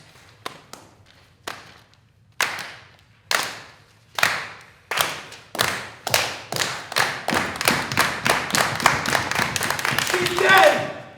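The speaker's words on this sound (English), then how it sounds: "If you believe, clap your hands" Audience members clap their hands together in response to a call to believe during a stage performance, starting as a few scattered sharp claps that quickly build into a steady, dense round of clapping from many hands.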